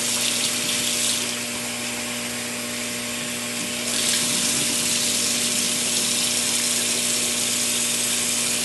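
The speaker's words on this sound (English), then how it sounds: "So I'm going to rinse them off real good." Shrimp, already cleaned and deveined, rinsed under a running kitchen tap: a steady, close hiss of flowing water with a faint pump-like hum beneath, briefly softer in the middle before the full stream returns.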